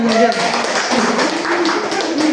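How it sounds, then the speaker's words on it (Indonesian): A school class claps for a student, a dense burst of many hands patting close by and fairly loud. Voices carry on under the clapping. "Wis, bisa tepuk tangan."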